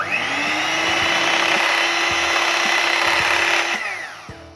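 An electric hand mixer or blender runs steadily and loud, whipping a mango dessert flavoured with banana drops and banana colouring, then winds down near the end with a few knocks.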